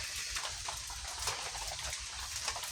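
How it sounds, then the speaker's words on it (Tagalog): Steady rain patters softly in the distance, a faint continuous hiss with scattered drip-like ticks. "Umuulan na naman."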